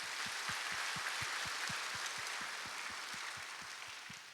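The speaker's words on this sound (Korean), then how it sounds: "동산의 가족이 되신 분들께 마음을 담아 박수로 환영하도록 하겠습니다" Church congregation applauding to welcome new members at a Sunday morning service, steady soft clapping with a faint low rhythmic thump running underneath.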